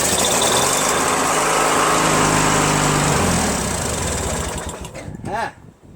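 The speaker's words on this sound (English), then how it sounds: "it starts up just fine with fuel, with carb cleaner" A Briggs & Stratton 19.5 hp opposed-twin engine on a Craftsman LT1000 lawn tractor runs loud and steady on carb cleaner, then sputters and dies toward the end.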